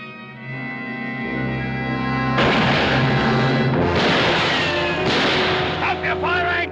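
Gunfire in a western shootout cracks repeatedly over a rising orchestral score, with several loud shots and bursts spread through the scene, close and dramatic.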